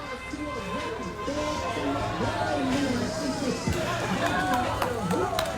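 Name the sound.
large street crowd in Milwaukee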